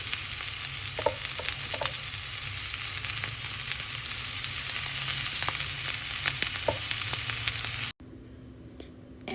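Tomatoes, cashews and ginger garlic paste frying in a pan for paneer butter masala: a loud, steady sizzle with scattered stirring scrapes, ending abruptly in a quieter tail.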